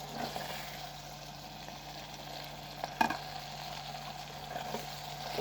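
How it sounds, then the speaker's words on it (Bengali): Garlic, bay leaf, garam masala and white cardamom frying in hot oil, a steady close sizzle with occasional stirring scrapes and one sharp clatter midway, alone without talk. "তারপরেও মশলাটা একটু ভেজে নিই।"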